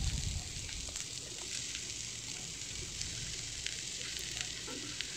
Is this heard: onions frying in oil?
yes